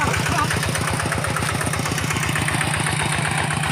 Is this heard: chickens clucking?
no